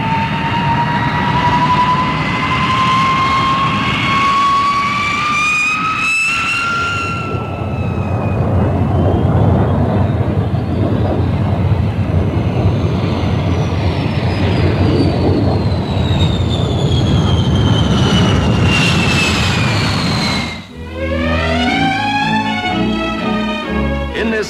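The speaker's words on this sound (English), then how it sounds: "The RAF's tremendously powerful weapon to come is the Valiant, the new four-jet bomber" The Valiant, an RAF four-jet bomber of the early 1950s, roars past in an old film recording, a loud, sustained jet whine that rises and falls in pitch as it passes close by.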